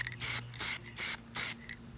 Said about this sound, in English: take the metallizer and do like three coats